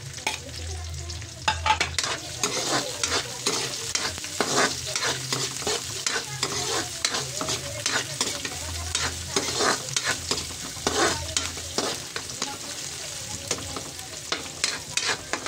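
Onions are frying in a pan for a home-cooked pork menudo, giving a continuous sizzle broken by frequent scraping stirs from a utensil; the sound is close and moderately quiet, with no speech and a low hum underneath.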